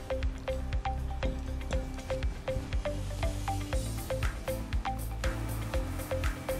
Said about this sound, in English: by using this cloth and a small amount of dye, I'm going to create a cloudy pattern on this leather.